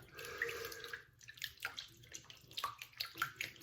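Hot water runs from a tap into a sink to soak and wash a shaving brush before a straight razor shave. The flow is a soft, steady splash with small drips and trickles, fairly quiet and close.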